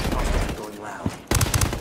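Video game gunfire in a squad-based shooter, dense rattling bursts of automatic fire, loud and close, briefly pausing before a sharp renewed volley, with voices mixed in.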